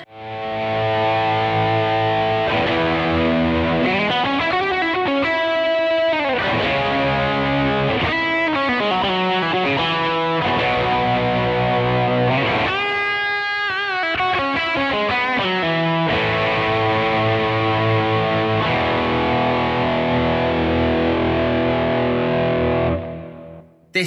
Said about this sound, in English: This is their 808 style pedal.